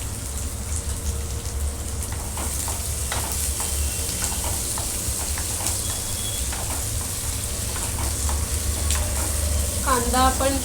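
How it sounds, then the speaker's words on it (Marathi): Chopped onions dropped into hot oil with cumin sizzle loudly and steadily in a pan, with a spoon scraping and stirring through the crackle and a few clinks of utensil on metal near the end. "आता आपण त्यात जे कांदे चिरून घेतले ते टाकणार आहोत। हे आता आपल्याला परतून घ्यायचं सगळं"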